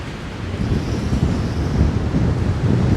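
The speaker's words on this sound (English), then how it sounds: "it's a windy night tonight. Very windy." Heavy wind roars and buffets the microphone on a roof at a camp at night, a constant low rumble with surging gusts and no voices.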